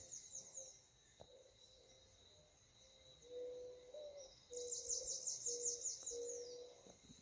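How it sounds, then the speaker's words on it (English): Birds chirp and sing outdoors under a wide sky, with a high repeated trill standing out above quieter calls and faint insect-like buzzing, all soft and distant. "Birds singing."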